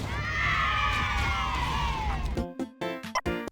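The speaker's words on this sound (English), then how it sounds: "that's the children's cheer sound effect when you headshot a grunt" In a Sonic spin-off video game, a recorded crowd of children cheers loudly and steadily after a grunt is headshot, then cuts off into a few short clipped sounds and fragments.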